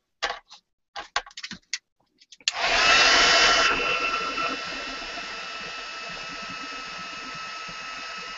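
Several sharp clicks and taps come first, then a heat tool starts up with a loud, steady blowing hiss to heat embossing powder, easing to a quieter, continuous whoosh that carries on to the end.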